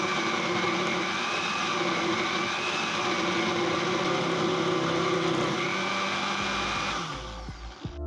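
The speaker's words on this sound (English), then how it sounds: "Once I have every mango in my blender, I'm going to cover and blend." A blender whirs steadily as it purées mangoes into a smoothie, a loud, continuous motor drone that winds down near the end.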